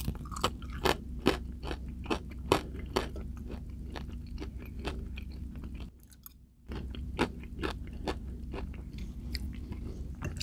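Crunchy tortilla bits from homemade spicy enchiladas are chewed up close, with steady rhythmic crunches and bites repeating throughout and one brief pause.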